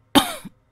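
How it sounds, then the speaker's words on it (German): A single short cough, close and fairly loud, from a person with chest pain, with a brief throat-clearing tail and no talk around it. "Seit gestern Abend habe ich Schmerzen in der Brust und muss die ganze Zeit husten."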